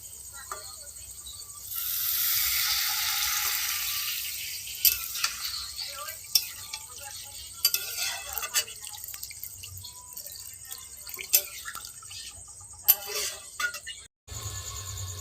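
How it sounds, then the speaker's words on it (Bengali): Water poured into a pan of aloo dum masala brings a loud burst of hiss and sizzle that fades into scattered drips, pops and light clinks, with faint low background hum. "কষা হয়ে গেছে, এবারে জল দিয়ে দেবো"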